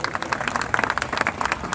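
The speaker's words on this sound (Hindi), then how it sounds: "जोरदार ताली बजा करके साथी का स्वागत करिए।" An outdoor political gathering claps loudly for a colleague being welcomed. Dense, rapid clapping from many hands keeps up in an uneven patter for nearly two seconds, with no pause.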